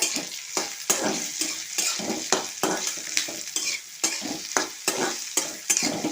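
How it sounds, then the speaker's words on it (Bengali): Onion, garlic and whole cumin sizzle in a pan while a spoon stirs them in regular, rhythmic scraping strokes, close and steady, with no voices. "এইগুলো আমি এখন একসঙ্গে একটু ভাজা ভাজা করে নেব লাল লাল করে"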